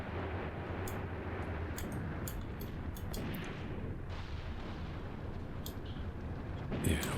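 An 88 artillery gun in Graviteam Tactics fires repeatedly, its heavy booms rolling under a constant battlefield rumble, with sharp cracks scattered through and a louder burst near the end.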